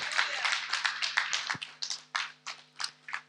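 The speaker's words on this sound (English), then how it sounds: "Let's just keep a clap offering for our Lord." A crowd claps in uneven bursts at a women's church conference, loud and close, with slaps breaking into separate beats toward the end.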